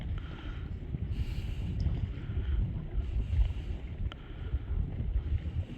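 A boat moving on water in Norway makes a steady low engine and water rumble with wind buffeting the microphone, continuous and fairly loud throughout, with no speech.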